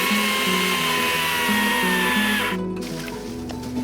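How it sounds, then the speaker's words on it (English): A battery chainsaw's high, steady motor whine runs close and loud, then cuts off abruptly near the end as the uncharged battery dies, leaving a lower hum as it winds down. "I'm gonna use the chainsaw."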